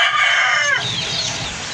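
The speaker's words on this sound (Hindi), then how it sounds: "ये मुर्गी है हमारी" A single loud, close hen call with a falling, drawn-out tone, followed by soft background noise.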